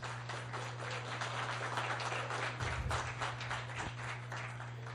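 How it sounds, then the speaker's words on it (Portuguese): Audience applause greeting the speaker Wagner Vasconcelos at a symposium, a steady crackle of many hands clapping at moderate volume over a low constant hum. "a quem eu peço uma salva de palmas"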